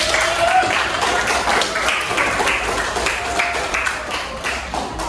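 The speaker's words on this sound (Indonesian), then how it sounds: "Baik, tepuk tangan untuk teman kita yang" Classmates clapping for a peer in a classroom during a teaching practice lesson, a moderate, continuous patter of many hands with some murmured voices blending in underneath.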